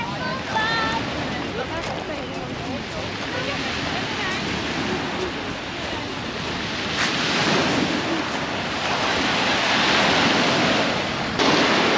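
Sea waves wash onto the beach at Supetar on the island of Brač, Croatia, a continuous near surf roar with wind buffeting the microphone and voices talking over it.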